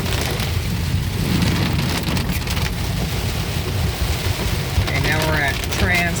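Heavy rain during a thunderstorm drums steadily on a car driving through flooded streets of Metairie, a constant broadband wash with tires splashing through puddles; a brief voice or radio chirp surfaces near the end.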